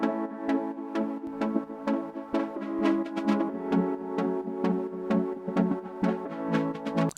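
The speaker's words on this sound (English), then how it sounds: "And they consist out of this noisy pad here." Stutter house chords from a noisy pad synth, the soft chords pulsing in a steady offbeat rhythm as part of a full drop with drums, sustained and moderately loud without any talk.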